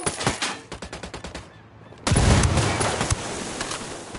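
Rapid bursts of automatic gunfire from the Wildlands shooter game, loud and close, then a brief lull before a sustained heavy barrage of shots and blasts.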